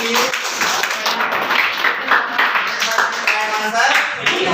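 A classroom of students claps for a classmate during a Hindi grammar lesson, brisk, fairly close clapping from many hands with voices mixed in underneath.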